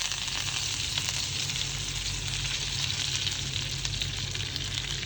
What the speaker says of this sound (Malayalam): ഒന്ന് പൊട്ടി വരുമ്പോൾ കുറച്ച് കറിവേപ്പില,